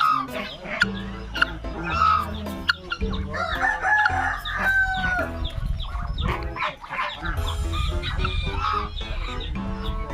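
Poultry calls fill the yard, crowing and clucking overlapping steadily with goose honks and turkey gobbles mixed in, loud and close throughout.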